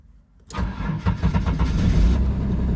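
A Holden Commodore's engine cranks with a rhythmic churning after a quiet key start, first start in years, then catches and settles into a steady idle rumble close by.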